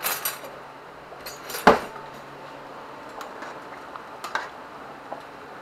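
Spaghetti being stirred in a pot on the stove, with a utensil giving one sharp clink against the pot amid faint scraping and a low, steady simmering hiss.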